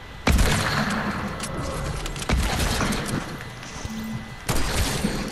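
Gunfire in Fortnite: a few sharp, loud shots crack out at spaced intervals, each followed by a rumbling tail of in-game noise, with no talking over them.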